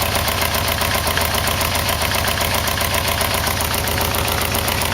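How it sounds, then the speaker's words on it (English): A Yamaha Vmax motorcycle engine idles steadily and loudly, a dense continuous rumble with a fast tinny rattle from the exhaust running through it. "Got some kind of a tinny rattle, but I'm pretty sure that's exhaust"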